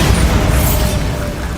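Bombarda blasting spell going off in Hogwarts Legacy on PC, a loud booming explosion with a heavy low-end rumble that stays dense and sustained throughout.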